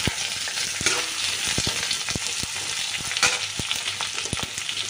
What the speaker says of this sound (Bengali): তো এবার দিয়ে দিচ্ছি একটা টমেটো